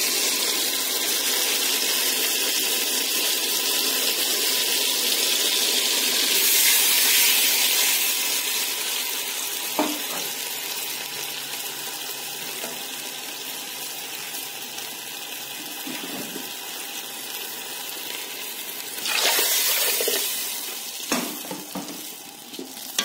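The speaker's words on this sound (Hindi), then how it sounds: "अब हम पानी डालते हैं" Water is poured into a cooking pot of fried masala for mung dal, a long steady splashing pour with sizzling and liquid stirring, and a few clinks near the end.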